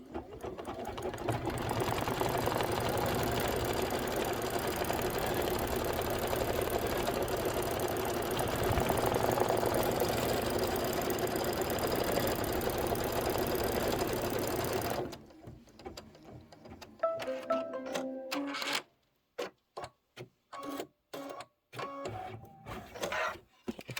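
An embroidery machine stitches a tack-down line for a dimensional badge embellishment, a fast, steady mechanical chatter running for about fifteen seconds before stopping, followed by scattered clicks and handling knocks.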